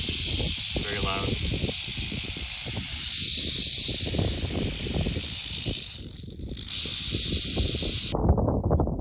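A rattlesnake in the California wild rattling its alarm, a loud, continuous dry buzzing hiss close by that runs almost unbroken, with someone talking over it and a brief break near the end.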